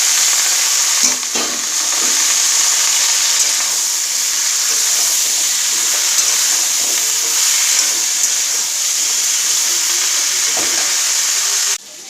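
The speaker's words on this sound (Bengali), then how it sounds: "এবার সব কটা সবজি দিয়ে দেবো ভাজবো" Mixed vegetables fry hard in a hot wok. A loud, continuous sizzle and hiss runs throughout with occasional stirring scrapes, then cuts off abruptly at the end.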